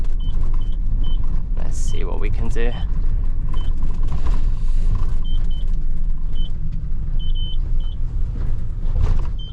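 A Tesco delivery van manoeuvres to park, its engine rumbling steadily close by while short repeated warning beeps sound, and the driver speaks briefly.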